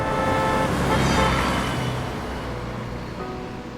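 A truck passes by on the road, sounding an odd horn. A broad roar swells close, then slowly fades as the vehicle moves away, with thin tonal horn-like notes over it and no voices.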